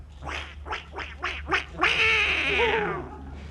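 A squeaky wind-up toy duck quacks in five quick, evenly spaced bursts, then lets out one long, drawn-out warbling quack, close and fairly loud.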